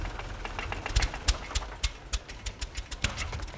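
A boat engine in a Tamil-dubbed Hollywood thriller runs unevenly, chugging and sputtering in irregular low thumps at moderate loudness, with no voices.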